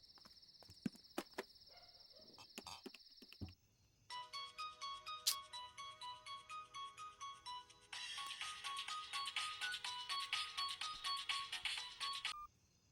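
A phone rings with an electronic ringtone, first a steady tone, then repeated melodic chimes that grow denser and louder before stopping.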